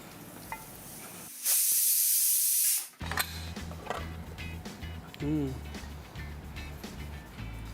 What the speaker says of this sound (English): So this is like the tadka?